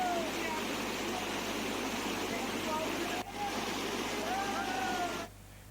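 A swollen, flooded river rushing past Kundavgarh village in the Ghat area, a dense, loud, continuous roar of water with faint voices underneath and a couple of abrupt cuts in the sound.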